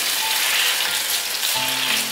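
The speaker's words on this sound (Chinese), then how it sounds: "炒匀后，把水加进来， 大概加半碗的水" Water hitting a hot pan of vegan stir-fry with eggplant gives a loud, steady hiss of sizzling that fills the whole moment.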